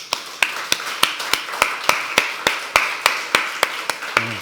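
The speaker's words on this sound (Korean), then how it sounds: "우리 세워준 모든 교회의 영적 리더들을 위해서 우리 박수합시다." Steady rhythmic claps from a church seminar audience, sharp evenly spaced strikes about four per second, close and fairly loud with no voices over them.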